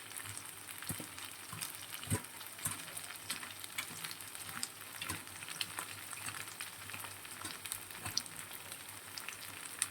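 Fish fries in a pan with turmeric and chili powder, giving a quiet, continuous sizzle and crackle with occasional sharper pops, with no talking.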